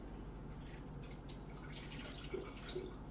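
Liquid drained off cooked ground meat for chili, a steady dripping and trickling of fat and juices running continuously at close range, with no talking.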